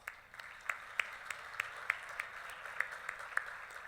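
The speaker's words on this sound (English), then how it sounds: "So let's give everybody a round of applause." Scattered, sparse handclaps ring out faintly at a gala audience, individual claps spaced irregularly over a soft room hush.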